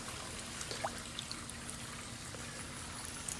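Water pours and trickles over a fossil megalodon shark tooth as it is rinsed outdoors, a soft, steady stream with faint drips, quiet and continuous over a low background hum.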